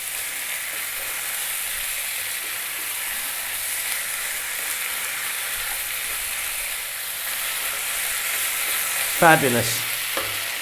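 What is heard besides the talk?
vegetables frying and being stirred on high heat for biryani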